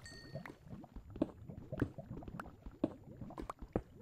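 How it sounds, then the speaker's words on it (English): Water flows quietly through a Minecraft cave, with soft bubbling and gurgling and faint periodic clicks, heard at a distance and fairly low in level. "But I hear the water over there."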